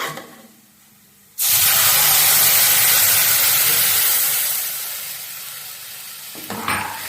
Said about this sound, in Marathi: त्यानंतर मी आता ह्याच्यामध्ये दूध ऍड करत आहे